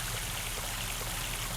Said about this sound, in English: Now, I'm going to refill my water and save right here.